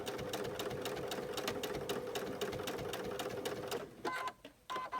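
A sewing machine stitches in the ditch around a quilted star on a cupcake recipe card quilt block, running in a fast steady chatter for four seconds before slowing to a few separate stitches and stopping.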